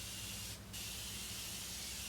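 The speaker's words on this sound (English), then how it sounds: "This is my Morphe setting spray." Morphe setting spray misted onto a face: one brief, bright hissing spray burst lasting well under a second, close and clear over a steady low background hum.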